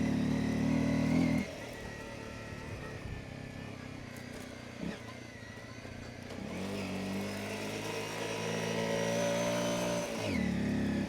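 Honda CRF250L Rally motorcycle labouring up a hill climb in first gear, its engine note holding steady and swelling with revs, fairly close and continuous without talk.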